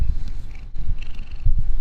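A house cat purrs close to a microphone, a low rumbling purr pulsing in quick repeated cycles with short breaks between breaths.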